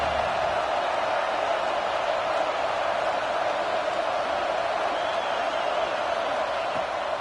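A constant, loud roar from the Georgia football stadium crowd on third down against Oklahoma, a dense, unbroken wall of noise with no distinct claps or words.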